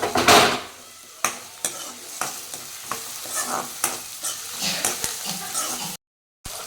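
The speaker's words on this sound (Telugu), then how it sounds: "ఇప్పుడు పచ్చి వాసన పోయేంత వరకు వేయించుకోండి" Garlic frying in a pan for Rayalaseema-style mutton blood fry, a soft sizzle under repeated sharp scrapes and taps of a spatula stirring, ending in a brief silence.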